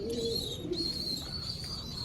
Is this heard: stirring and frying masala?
no